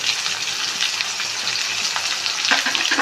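Onions, shallots, crushed garlic and ginger fry in hot oil with a steady, dense sizzle and a few sharper crackles near the end, heard alone with no talking.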